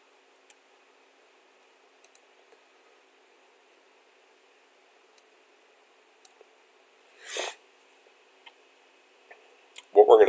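Computer mouse clicks while working in SolidWorks CAD software, sparse faint single clicks spread across a quiet background, with a brief burst of speech partway through and another at the end.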